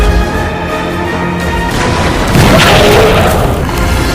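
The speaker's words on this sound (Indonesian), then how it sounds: "Chow-Yo berhasil meledakkan kadal ini dengan ramuan buah beri" A heavy explosion blows up a giant lizard in a monster film. It hits as a loud, sustained boom with a rumbling blast that swells midway and holds until a sudden cutoff.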